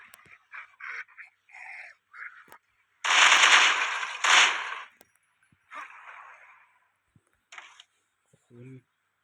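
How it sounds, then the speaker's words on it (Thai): A shotgun fires in a zombie video game with two loud, broad blasts close together, surrounded by short bursts of game sounds and voice-like effects. "ปืนใหม่ช็อตกัน"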